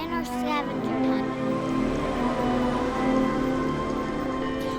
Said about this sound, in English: When we were there, it started to rain.